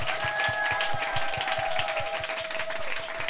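An audience applauds steadily, mid-distance and sustained, welcoming a gospel singer to the stage, with a rhythmic beat and a held tone running beneath the clapping.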